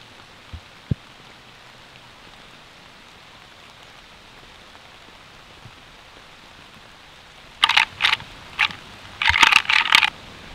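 Heavy rain falls during a wet, cold morning deer hunt, a steady soft hiss with a couple of faint knocks early on, then loud, close bursts of drumming patter over the final three seconds.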